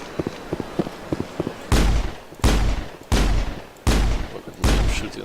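Gunfire in the video game Mass Effect: a few light clicks, then five loud, evenly spaced shots, each one a heavy boom with a short decaying tail, close and alone.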